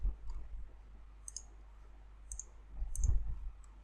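Computer keyboard keys tapped while entering text, a few light scattered clicks in short bursts over a low background hum, with no voices.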